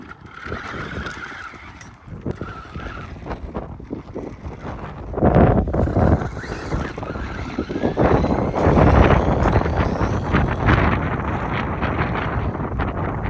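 Traxxas Stampede RC truck with a budget Onyx power system runs flat out at top speed: a loud, rushing electric whine with wind buffeting that swells after a few seconds and stays strong, with no talking.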